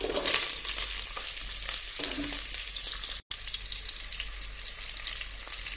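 Mustard seeds, fenugreek, garlic, onion and curry leaves fry in hot oil in a kadai for a fish curry, a steady close sizzle with faint stirring scrapes and one brief dropout midway.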